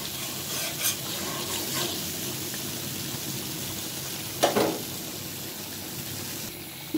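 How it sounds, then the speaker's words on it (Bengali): Spice masala for fish dopiaza fries in a pan, a steady hissing sizzle with one or two brief scraping strokes from the spoon, close and moderate in level, with no talking. "আমি মশলাটা অনেক ভালোভাবে কষিয়ে নিচ্ছি"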